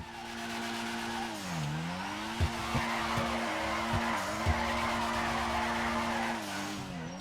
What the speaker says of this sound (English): this time we're going to try to get a longer sweeping drift going